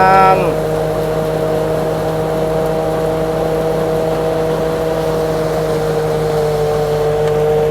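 A tractor drives through a rice field during harvest, its engine a loud, close, steady drone that runs without a break for the whole stretch, with a brief rev at the very start.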